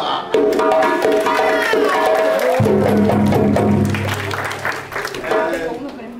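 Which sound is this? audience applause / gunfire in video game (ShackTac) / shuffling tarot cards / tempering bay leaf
audience applause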